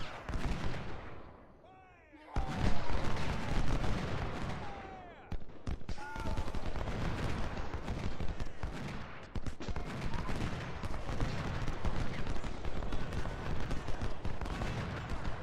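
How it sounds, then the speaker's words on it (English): Massed musket volleys from several brigades firing together in the Civil War strategy game Ultimate General: Civil War, a dense continuous crackle of gunfire after a brief quieter opening, with battle noise throughout. "you do have like 5 brigades all firing at once"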